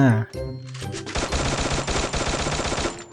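Very fast automatic gunfire in the shooter game Free Fire, a tight stream of loud, evenly spaced shots that starts after a brief tonal intro and rattles on steadily to the end.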